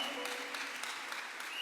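Church congregation applauding during a French-language sermon, a steady dense wash of clapping hands that holds evenly from start to finish with no voices breaking through.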